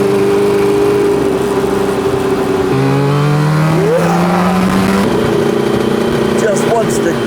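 A 1985 Suzuki RG500 two-stroke motorcycle engine while riding, droning loud and steady with rising pitch sweeps through gear changes, close up with wind noise throughout.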